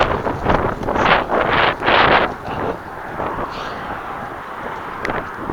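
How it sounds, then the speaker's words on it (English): Strong wind gusting hard across an outdoor microphone, with loud buffeting bursts in the first couple of seconds before settling into a steadier, lower roar. "I heard the wind coming again."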